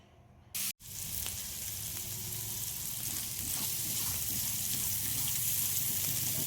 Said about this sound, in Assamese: এইখিনি ঢাকন দি অলপ সময় ভাজিছিলোঁ